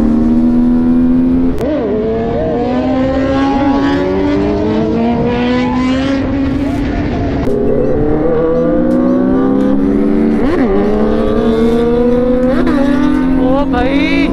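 Two superbikes pass on a road, their engines screaming loudly with rising and falling pitch as they rev and go by up close, under continuous traffic noise.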